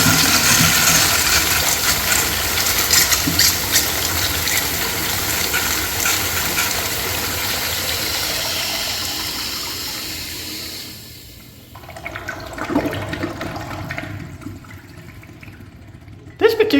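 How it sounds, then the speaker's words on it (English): A 2nd-generation Eljer Dover urinal with a siphon jet flushes in a long, loud rush of water lasting about eleven seconds, then tapers into softer trickling and refill sounds. "Let's have a look at a flush."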